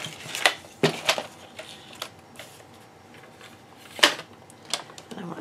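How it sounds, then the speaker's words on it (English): A handheld paper trimmer slicing through patterned craft paper gives a series of sharp clicks and brief scraping strokes in irregular bursts, close to the microphone against a quiet room. "Using my paper trimmer."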